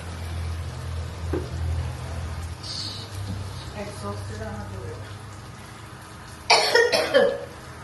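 A person coughs a few times in a home kitchen while cooking curry and fish fry, a brief harsh burst near the end following quieter sounds, with a low hum underneath.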